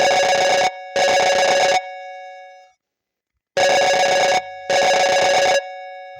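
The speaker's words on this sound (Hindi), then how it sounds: "घंटियां जाने लगी।" Telephone ringing in a bright electronic tone, two paired bursts of ringing separated by a short silence, loud and close with no talk.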